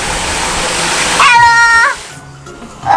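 A strong hose blasts water inside a boat's bilge as a loud, steady hiss and splatter that thins out near the end, with a high whining tone riding over it for a moment.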